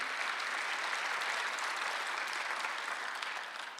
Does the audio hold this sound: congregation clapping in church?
yes